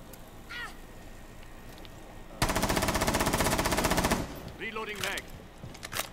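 A Bandit's MP7 submachine gun rattles off one loud, sustained automatic burst in a foggy video game match, dense rapid shots for about two seconds, framed by quieter game ambience and bird-like chirps.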